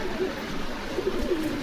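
Pure Rajshahi Giribaz pigeons at a pigeon seller's shop in Bogura give soft, low coos, a few short rolling calls close by against a quiet background.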